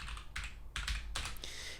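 Clicks on a computer keyboard come in short bursts of typing, fairly quiet and close, with brief pauses between the clusters and no talking.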